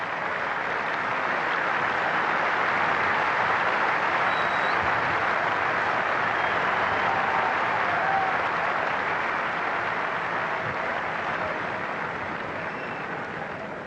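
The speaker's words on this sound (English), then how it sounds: "Nice cheer in the crowd for Capel Dev's half-century." A cricket crowd at an England versus India Test match in 1990 cheers and applauds a half-century, a broad, steady roar of clapping and cheering that holds for the whole stretch and only slightly fades near the end.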